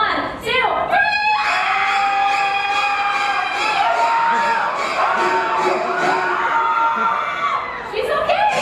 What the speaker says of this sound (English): take a look at the side screens, everybody, and scream on three, Deanna.